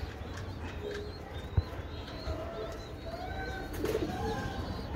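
Pigeons coo softly at their coop, a few low rounded calls rising over a steady outdoor background hiss, with one brief sharp knock partway through.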